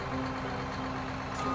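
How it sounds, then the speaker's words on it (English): A cartoon garbage truck named Garby, carrying a big yellow bin on her back, rolls in with a steady low engine hum and a faint tonal drone, continuous and fairly close throughout. "Here comes a very smart garbage truck."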